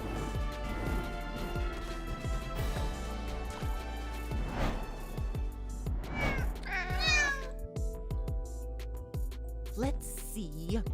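Cat meows from the mobile stealth game Sneaky Cat. Several short meows and one rising caterwaul stand over a busy game soundtrack with other effects.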